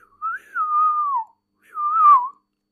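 A human whistle imitates a bird call, with two clear sliding tones, the first long and wavering, the second shorter, separated by silence and heard alone.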